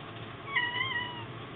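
A cat meows a few times in quick succession, mid-pitched and fairly close, over a low steady background hum.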